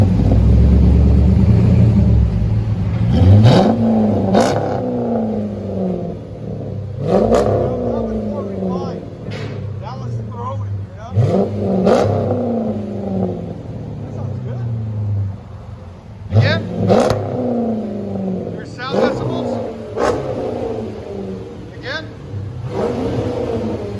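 A 2007 Chrysler 300C with a 5.7L HEMI V8 and dual exhaust revs repeatedly, several loud rising engine bursts spaced a few seconds apart over a low rumble, with speech mixed in.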